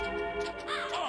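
A bird enemy in the video game Castlevania: Symphony of the Night caws in two harsh, rising calls over a steady game music background, loud and close.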